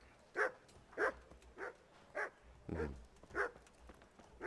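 A dog in the medieval video game Kingdom Come Deliverance barks about seven times at a steady, evenly spaced rhythm, each bark short and sharp, fairly close and alone without talk.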